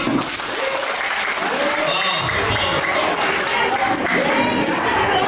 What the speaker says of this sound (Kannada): ಗಂಡಿನ ಕಡೆ ಒಂದ್ಸತಿ ಜೋರ ಚಪ್ಪಾಳೆ ಹಾಕಿ ನೋಡೋಣ